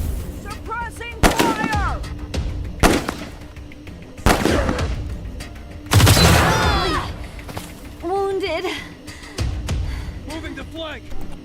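Gunfire bursts out in repeated heavy volleys and rapid shots during a Wasteland 3 firefight, loud and close, with shouted voices between the blasts.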